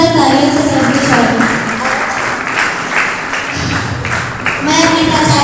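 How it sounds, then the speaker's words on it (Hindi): Audience applause at a university event welcoming the principal to the lamp-lighting ceremony, a dense steady clapping wash mixed with talk and music-like tones throughout. "जोरदार तालियों से सभी स्वागत।"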